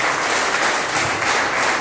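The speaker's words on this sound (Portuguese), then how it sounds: "Salva de palmas para o Senhor" A church congregation at an evening worship service claps together, loud and continuous, a dense even wash of applause with no voices on top.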